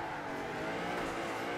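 In a racing video game a fake Koenigsegg drones along, its engine note a steady, fairly quiet whine with a faint hint of tire noise.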